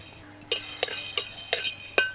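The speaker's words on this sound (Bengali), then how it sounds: "গোলমরিচ ভেজে নেব" Whole black peppercorns dry-fried and stirred in a pan for a jujube pickle, with a spoon scraping and clinking against the pan in about five sharp, separate strokes over a faint background.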